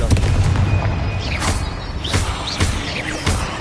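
Confringo spell blasts in the video game Hogwarts Legacy, a few loud booming impacts with rumbling low ends and sharp bursts spaced through a noisy fight.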